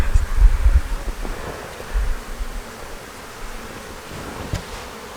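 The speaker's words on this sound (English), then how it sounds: "these bees that's flying around here" Honey bees fly around an open eight-frame hive during a nuc transfer, a close, wavering buzz that swells and fades as they pass, with faint outdoor wind and no talking.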